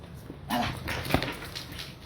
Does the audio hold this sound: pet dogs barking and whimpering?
yes